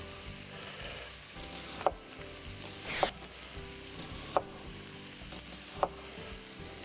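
Large-cut potato wedges sizzle steadily in a pan for cooking ojakhuri, a continuous crackling hiss broken every second or so by a sharp scrape or stir.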